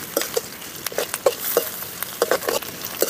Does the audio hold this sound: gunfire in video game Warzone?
no